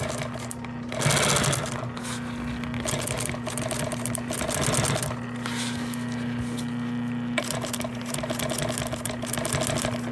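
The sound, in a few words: sewing machine stitching door panel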